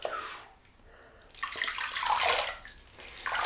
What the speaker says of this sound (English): And that is hot. Hot water.